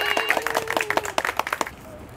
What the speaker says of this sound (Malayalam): എല്ലാവരും ഒന്ന് കൈയടിക്കണം കേട്ടോ